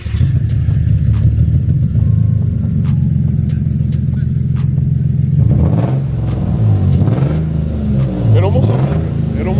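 Infiniti G35 with a VQ engine and an exhaust leak, revving loudly up close: a steady throaty idle rumble, then a sharp rev rising and falling midway, followed by further wavering revs.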